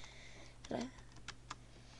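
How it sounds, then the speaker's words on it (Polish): A handful of soft keystrokes on a computer keyboard as a new password is typed, quiet and sparse over a low steady room hum. "I tutaj wpisujemy, jakie chcemy jemu założyć hasło."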